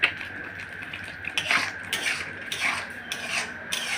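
Semolina is stirred without pause in a pan for ripe papaya barfi, with a spoon scraping and rasping against the metal in repeated strokes, some louder than others, close up and with no voices over it.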